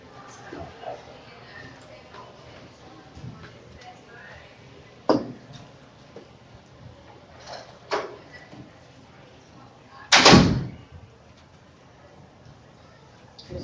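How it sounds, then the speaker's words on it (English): A door is shut indoors with a single loud, close thud near the end, preceded by a few softer knocks and shuffling sounds over quiet room noise. "And whenever you're ready, Danielle, I'm going to go shut that door"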